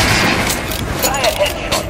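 Gunfire strikes armored enemies in the video game Metro Last Light, a dense steady stream of loud shots with metallic impacts lasting throughout, close and continuous.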